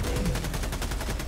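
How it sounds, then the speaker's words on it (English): An A-10 Warthog strafes in Helldivers 2, its cannon firing as an extremely rapid, buzzing stream of closely packed shots that blur into one continuous, loud, rattling roar. "It's an A10 Warthog, bro."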